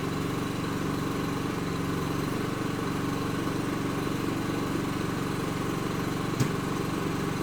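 A generator runs after a power outage, giving off a steady low drone that stays even and moderately distant throughout. A single faint click sounds near the end.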